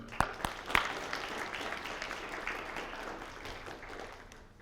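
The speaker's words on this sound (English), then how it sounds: "We can go ahead and applaud for him anyway." Steady applause from a crowd, with a few sharper individual claps near the start, continuing evenly for several seconds before tapering slightly.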